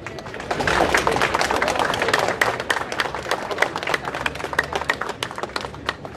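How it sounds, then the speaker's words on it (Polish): Crowd applause at a street protest against ACTA 2 internet censorship welcomes the next speaker: sustained, dense clapping from many people outdoors, loud and steady, gradually thinning toward the end. "wielkie brawa dla kolejnego odważnego"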